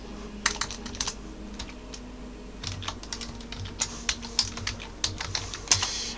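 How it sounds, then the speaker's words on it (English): A name is typed on a computer keyboard while messaging in the game Ascension Bronzebeard: close, irregular bursts of light key clicks with short pauses between runs of keystrokes. "Let me type his name."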